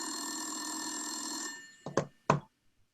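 An old-style telephone bell rings in a long steady trill that cuts off, followed by a few short clattering knocks as the handset is picked up, heard alone in a detective radio drama.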